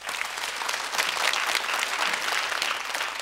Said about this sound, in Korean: 박수 주시고요.